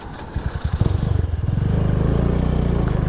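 A motorcycle engine on a beach training ride, revving in loud uneven bursts that settle into a steady, pulsing low chug as the bike stalls out close by.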